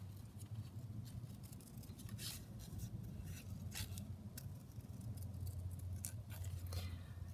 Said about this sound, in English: I have got a butterfly here that's yellow, so let me just try cutting that out.